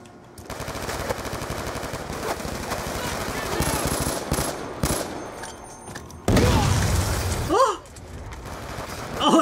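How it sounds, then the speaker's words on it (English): Rapid gunfire rattles in the video game Call of Duty: Black Ops II, with a sudden louder burst near the end, steady and close. "that gun exploded"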